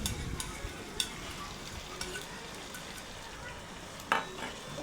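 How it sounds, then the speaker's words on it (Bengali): Eggs frying in hot oil in a pan at an outdoor riverside crab-cooking meal, a steady close sizzle with occasional sharp scrapes and clinks of a utensil stirring, no voices. "এখন আমরা ডিম ভাজছি"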